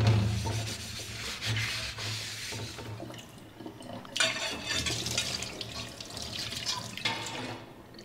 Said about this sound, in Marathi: आता याला धुवून घेऊया